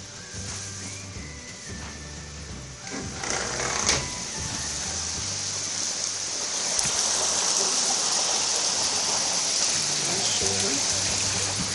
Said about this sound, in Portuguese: Chuva boa mesmo, daquelas.